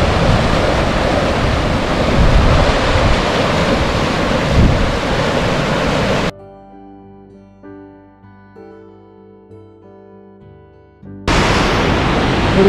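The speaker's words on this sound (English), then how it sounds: "McDonald Falls, Glacier National Park." McDonald Falls in Glacier National Park roars as a loud, dense, steady rush of falling water. It cuts off into a quiet stretch of soft tones, then the close roar returns.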